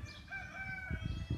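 A rooster crows on a farm with chickens, alpacas and emus, its drawn-out call clear and fairly close, followed by a few low clucks and rustling at the end.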